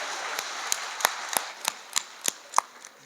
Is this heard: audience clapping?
yes